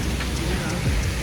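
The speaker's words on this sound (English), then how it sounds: "The rain isn't like heavy, but it's enough to mess up the gimbal" Light rain falls steadily on a cruise stop in Cozumel, a soft continuous patter with low rumble underneath and no voices.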